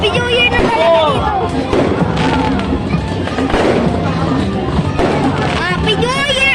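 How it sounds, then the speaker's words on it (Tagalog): New Year fireworks pop and thump in repeated bursts at a moderate distance, mixed with crowd noise and excited voices talking and shouting over the bangs. "Ayun ang fireworks!"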